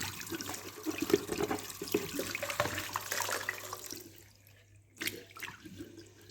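Tap water runs while a plastic mug is washed beneath it, a steady close splashing and gurgling that changes as the mug moves, then eases to a quieter trickle with a brief splash near the end.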